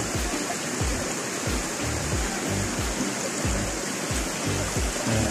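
Erskine Falls in Victoria, Australia, pouring in a constant broadband roar of falling water, loud and unbroken from start to finish, with no voices.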